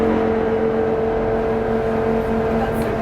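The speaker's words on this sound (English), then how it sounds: "Bow thruster over to port, stern thruster to starboard, and she'll spin." Bow and stern thrusters on a Beneteau Swift Trawler 41 run together in a steady, close mechanical whir with a constant tonal hum, continuous and unbroken throughout with no talk.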